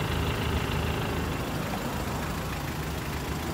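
Mitsubishi L200 Sport 4x4 diesel engine idling, a steady, close low rumble with an even diesel clatter throughout and no talking.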